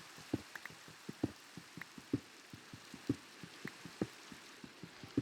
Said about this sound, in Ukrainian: Тільки мінус, що тут дощ, сніг би лучше був.